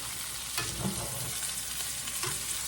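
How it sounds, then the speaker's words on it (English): Rice and link sausage browning together in a pan, with a steady sizzle under a few scraping stirs of a utensil and no talk. "I'm going to put my rice in there and let it brown up along with them sausages"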